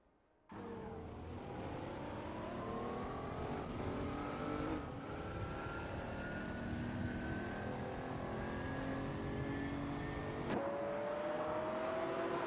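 Several race cars, a Lamborghini among them, roar steadily in a racing simulator game, with engine notes climbing smoothly over a sustained loud drone that shifts pitch around the middle and near the end.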